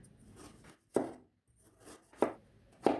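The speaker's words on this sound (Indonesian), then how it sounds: "Wortelnya ini dipotong agak tipis aja supaya nanti pada saat dimasak itu lebih cepat matang ya." Carrot sliced thinly on the diagonal with a kitchen knife for a capcay stir-fry; three or four crisp, close knife chops sound alone, spaced unevenly with a faint background hiss between them.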